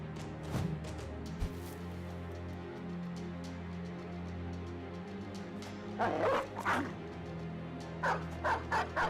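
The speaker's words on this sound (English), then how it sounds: "that's a big dog" A large dog barks and yips in the video game Battle Brothers, with a short bark early and clusters of sharp barks near the end over a steady low game hum.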